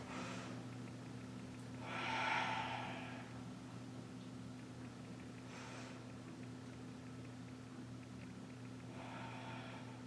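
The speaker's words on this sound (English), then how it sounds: "Take 3 deep cleansing breaths" Three slow, deep cleansing breaths during a yoga session, each a soft airy exhale spaced a few seconds apart over a steady low electrical hum, fairly faint and with no talking.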